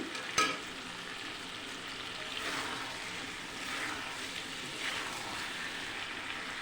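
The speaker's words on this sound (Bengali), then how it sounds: "আলুটা দিয়ে একটু নাড়াচাড়া দিয়ে তারপরে জল দিয়ে দেবো" Potatoes are stirred into browned, well-fried meat curry in a pan, with soft sizzling and intermittent scraping strokes close by, steady frying underneath and no talk.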